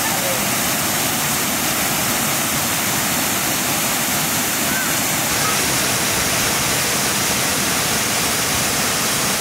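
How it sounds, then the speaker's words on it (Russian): The Rufabgo waterfall in the Guam Gorge area of Krasnodar Krai, dropping about six metres into a pool below, roars as a loud, dense, continuous rush of falling water heard up close for the whole stretch, with no voices. "Поток срывается с 6 метров высоты двухэтажного дома, а внизу формируется своеобразная чаша."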